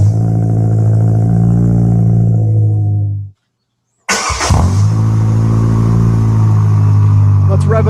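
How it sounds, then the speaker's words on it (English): Engine with its original exhaust cranks and fires, idling loud and steady before a brief silence, then catches again with a sharp burst and settles into a strong rumbling idle with small revs. "Here's how a startup sounds originally and then with the silencer."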